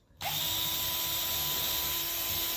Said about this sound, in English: Now, what you can do is pop some screws in.